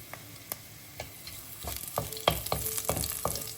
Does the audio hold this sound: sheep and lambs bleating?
no